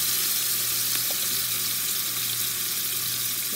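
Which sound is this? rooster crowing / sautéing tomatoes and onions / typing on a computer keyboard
sautéing tomatoes and onions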